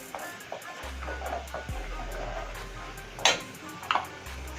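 A tomato pickle mixture with urad dal, salt and chilli fries quietly in a pan, with a low sizzle under intermittent stirring clicks and a couple of sharper scrapes of the spoon against the pan.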